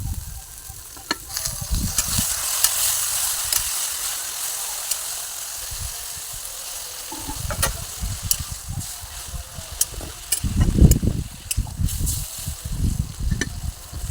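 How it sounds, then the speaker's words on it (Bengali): Chopped okra sizzles and fries steadily in a hot pan as a spoon stirs it, with scraping bursts rising over the constant hiss, close and fairly loud, and no one speaking. "এর মধ্যে আমি ভেন্ডিটাও দিয়ে দেবো, দিয়ে অল্প করে কষে নেবো।"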